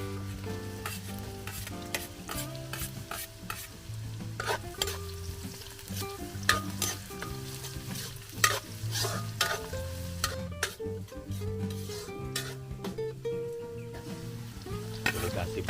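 Minced ginger stir-fried in a hot pan for a Filipino pork innards batchoy with misua, with a steady close sizzle and repeated scraping stirs throughout, with no talking.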